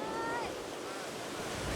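Ocean surf washes steadily onto the sandy beach at Laem Samila during a sea turtle hatchling release, a continuous close wash of waves with wind noise and no pauses.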